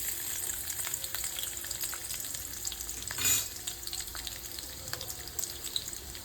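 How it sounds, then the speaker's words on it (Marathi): Garlic sizzles and fries in hot oil in a pan for a spicy garlic Maggi, a steady crackling hiss close by with light stirring and a brief louder burst midway. "यामध्ये मी आता तेल टाकलेलं आहे आणि आता आपल्याला टाकायचं आहे लसूण"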